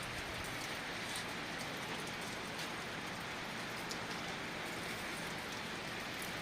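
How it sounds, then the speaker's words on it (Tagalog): Steady rain falling on an early Sunday morning, a dense, even patter that stays constant throughout with no voices. "Maulan ngayon guys."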